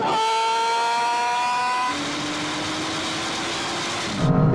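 An Aston Martin in a half-mile drag race against a Valkyrie, Vanquish and V12 Vantage holds a high, steady engine whine that drops in pitch at a gear change, loud and close, with a sharp burst at the very end.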